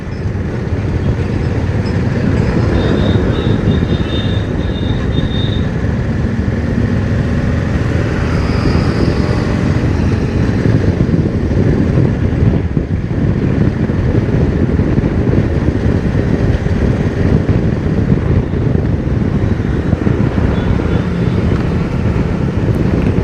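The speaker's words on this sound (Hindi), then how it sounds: "अब मैं इसका सूदिंग साउंड सुनाऊंगा, एग्जॉस्ट साउंड, इंजन साउंड" A Honda CB350 motorcycle rumbles steadily while riding, its low exhaust and engine drone mixed with constant wind noise, loud and unbroken, with no voices.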